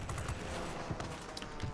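Dense, continuous rattle of twin 20mm aircraft cannons firing during a dogfight in World of Warplanes, dull and rumbling with sharp pops throughout, mixed into engine noise with no talk.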